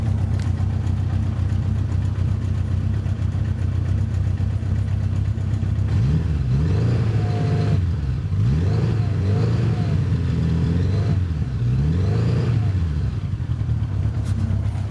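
A 1985 Honda GoldWing motorcycle engine idling with a steady low rumble, then several rising revs that climb and fall back, heard close.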